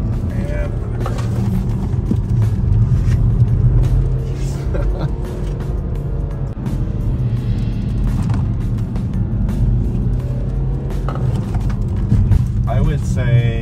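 A BMW 328d Touring F31 diesel wagon drives fast through tight mountain curves on the Tail of the Dragon, a steady loud engine and road rumble throughout, with occasional spoken commentary over it.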